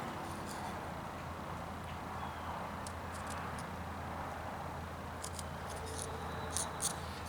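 A knife tip carves small, careful cuts into a block of wood while shaping a whittled mother-and-child figure, giving faint scratchy scrapes and a few crisp nicks over a steady low background hiss.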